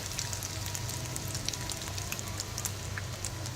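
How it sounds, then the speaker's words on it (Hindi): French toast fries in a hot pan with a continuous close crackle and sizzle, scattered pops over a steady hiss, and no speech. "दोनों साइड क्रिस्पी होने तक, गोल्डन होने तक फ्राई कर लेंगे।"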